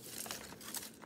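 Paper tears and crinkles in a few quick, soft, papery rasps close at hand. The sound is faint and brief, made while building a paper camera, and nobody speaks.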